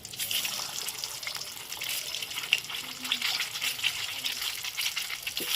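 Turmeric-coated duck eggs frying in a pan: a moderate crackling sizzle with soft popping and occasional spatters, steady throughout at close range.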